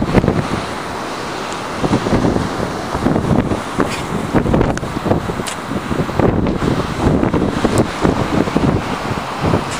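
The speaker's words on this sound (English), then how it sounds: "It's a bit windy, so you might not be able to hear me properly" Strong wind on a seafront in Brighton and Hove batters the microphone in loud, irregular gusts of rumbling wind noise, with surf-like roar beneath and no talking.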